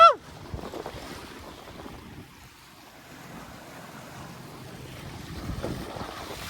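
An electric DIY skiff cruises at around 8 to 9 miles per hour with the wind at its back, giving a steady rush of wind and water noise with a brief sharp bump at the start.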